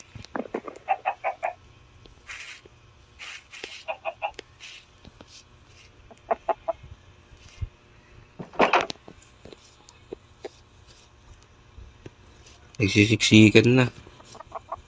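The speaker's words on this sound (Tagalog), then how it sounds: "Dami ng manok, oh." Minecraft chickens cluck in short, scattered bursts, with a louder flurry of squawking near the end, while a person talks quietly in Filipino in between.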